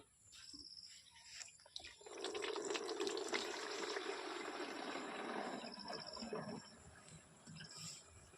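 Water poured and filled into a container while mixing a pesticide spray for jasmine bud cultivation; a steady close splashing rush lasts several seconds, then fades to a light trickle.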